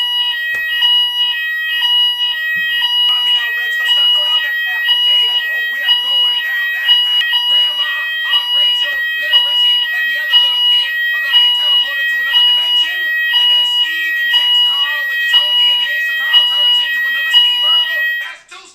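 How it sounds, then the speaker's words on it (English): A building's fire alarm sounds continuously under test, a loud steady electronic tone with pulsing high beeps repeating without a break for nearly the whole stretch, then cutting off at the very end. "My building is testing the fire alarms."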